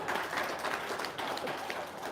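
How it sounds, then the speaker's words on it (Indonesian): An audience applauds at a religious talk, a dense, even patter of clapping that holds steady for a couple of seconds without speech over it. "Tepuk tangan dong."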